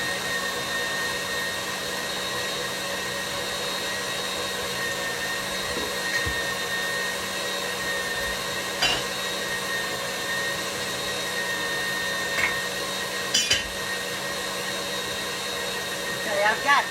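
An electric hand mixer whirs on high speed, beating egg whites in a bowl: a steady, close motor drone that holds level throughout with a few faint clinks of the beaters against the bowl.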